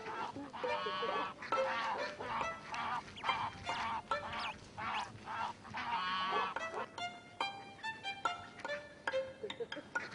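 Geese honking in a noisy cluster, repeated loud nasal calls overlapping in irregular bursts, close to the listener and continuing throughout with little pause.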